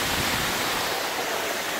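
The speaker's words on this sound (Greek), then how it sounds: "Ακριβώς πίσω μου βρίσκονται πράσινα νερά και ψηλά είναι ένας καταράκτης" Roaring waterfall at Lepida Falls, spilling into green water below. The rush of falling water is loud, close and unbroken, with no voices.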